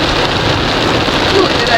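Heavy rain makes a loud, dense, continuous hiss and patter throughout, steady with no breaks, heard alone.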